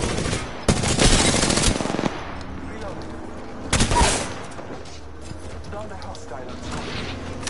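Rapid automatic gunfire in a video game battle comes in two loud bursts with quieter gaps between them, and players talk under the shooting.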